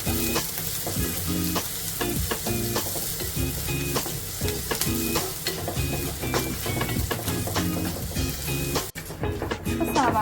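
Sliced onion and green chillies sautéing in a pan for a king fish curry, loud continuous sizzle broken by repeated scraping stirs of a spoon, with a brief lull near the end.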